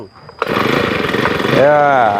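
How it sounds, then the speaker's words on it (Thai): A small petrol grass trimmer engine kicks into life and runs loud and close with a steady buzzing rattle while cutting grass around a house, then revs higher near the end. "เครื่องตัดหญ้าไผนี่"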